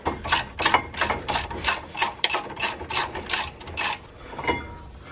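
A ratchet loosens a brake caliper bracket bolt on a Saab 9-3 Aero, giving a close, loud run of about a dozen quick metallic clicking strokes in a steady rhythm, then one last click after a short pause.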